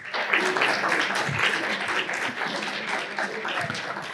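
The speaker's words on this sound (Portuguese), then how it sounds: "Uma salva de palmas." Steady applause from a seminar audience greeting the moderator, dense clapping that holds evenly for several seconds.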